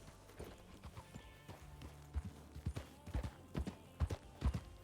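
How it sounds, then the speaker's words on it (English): Horse hooves clip-clop at an unhurried walk in the RedM Red Dead Redemption 2 roleplay game, soft, fairly close steps with uneven timing under a low background hum. "Horsey, so pretty."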